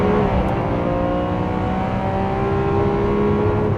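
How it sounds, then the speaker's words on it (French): A Lamborghini Aventador SV's 750-horsepower V12 holds a loud, steady high-rev drone, a dense even engine roar heard close and continuously, with no speech over it. "c'est un authentique moteur de puriste qui prend des tours comme jamais"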